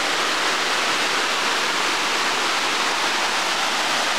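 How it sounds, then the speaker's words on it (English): A mountainside waterfall cascade roaring steadily, a loud, dense rush of falling water heard up close with no break. "we got another cascade. The whole mountainside is full of cascades."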